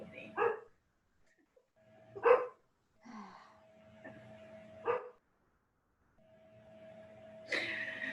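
A dog gives several short, sharp barks spaced a second or two apart, fairly distant, with a faint steady hum and a louder noisy burst near the end.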